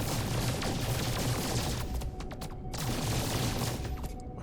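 Rapid ship weapon fire in the No Man's Sky video game rattles as a dense, continuous stream of fast crackling shots, fairly faint and steady throughout with slight dips in intensity.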